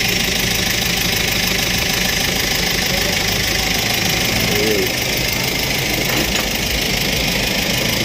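A Kia 2700 diesel engine runs steadily and loud, a dense close clatter with a constant rough knock throughout, no pauses or changes in pace.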